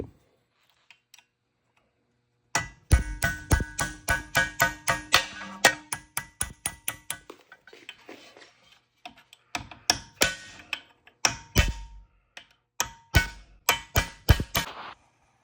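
Metal pins being driven out of a John Deere MaxEmerge planter seed meter clamped in a vise: two long runs of sharp, evenly spaced hammer-like taps, close and distinct, separated by a pause.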